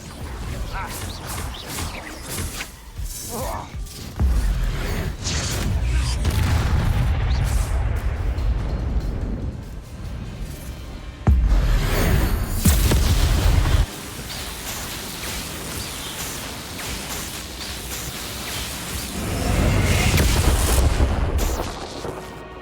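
Explosive spell blasts in Hogwarts Legacy combat crash out in loud booming bursts, about four heavy impacts spaced across a busy, noisy magical battle with no talking.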